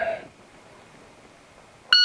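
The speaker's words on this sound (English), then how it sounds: "I want to have my hand on the gun before the beep's over." Shot timer start beep during dry fire practice, a sharp electronic tone arriving alone and loud right at the end after near silence.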